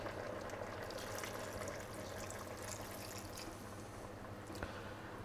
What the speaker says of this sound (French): On n'oublie pas le bouillon de bœuf.